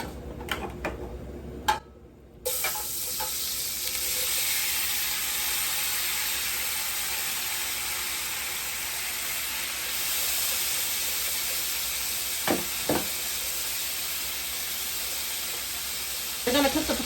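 Seasoned potatoes hit hot oil in a pan and settle into a steady, close sizzle and hiss, with a few brief clatters from handling.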